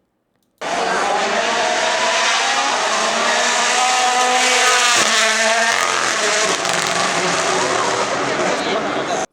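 WRC rally cars from recent seasons race through a stage at Rally de Portugal, engines roaring loud and steady for several seconds with tire noise and a passing surge midway, crowd sound mixed in.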